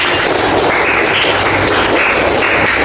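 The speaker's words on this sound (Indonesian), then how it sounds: "Egi, tepuk tangan buat Egi." A classroom of students applauds together, a dense, continuous burst of clapping that stays loud and even from start to end, with no voices over it.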